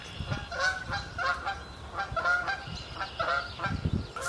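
Geese honk repeatedly outdoors, a loose series of nasal calls at moderate distance with brief gaps between, no talking.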